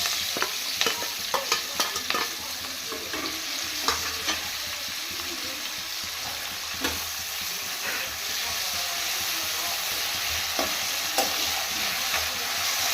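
Thinly sliced onions fry in a hot pan with salt, a steady sizzle running throughout while a spatula stirs them in brisk scraping bursts, close and fairly loud with no talking.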